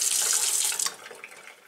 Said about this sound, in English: Making sure to rinse them in water after.